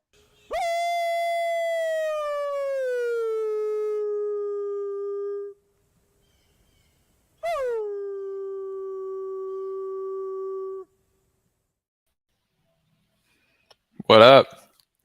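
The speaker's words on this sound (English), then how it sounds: "Let's give him a wolf howl." Two long, smooth wolf howls from a sound effect, each rising and then holding steady for several seconds, separated by a short silence, followed at the end by a brief burst of voice.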